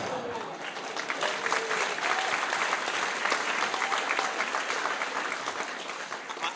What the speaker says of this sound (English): it's going to get claps every time